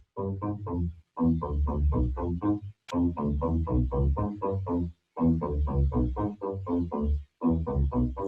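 A synthesizer plays a bouncy melodic line in short phrases separated by brief gaps of silence, moderately loud and dry.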